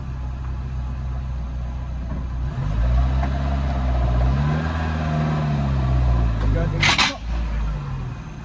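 A car engine idles and revs as the car is driven up onto ramps before a clutch replacement, a steady low rumble swelling with throttle, with a brief sharp clank near the end.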